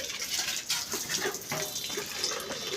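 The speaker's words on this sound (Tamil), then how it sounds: "அந்த தண்ணி எடுத்து ஊற்றிக்கோ கீழ்" Water is poured from a bucket onto plants outdoors, a steady splashing gush that swells and eases in rough waves, close and moderately loud.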